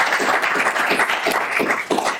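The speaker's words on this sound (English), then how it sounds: "just another round of applause for them" A room of attendees at an awards colloquium gives another round of applause: moderate, somewhat uneven clapping with a few louder bursts, lasting the whole moment without speech over it.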